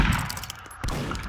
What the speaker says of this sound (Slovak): Prestaňte do mňa strieľať, dobre?